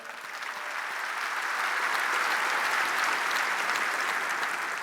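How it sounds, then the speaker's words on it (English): A keynote audience breaks into applause that swells over the first second and then holds as dense, even clapping from a large crowd. "Round of applause for them"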